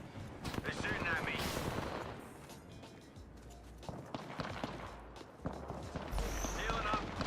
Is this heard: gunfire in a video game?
yes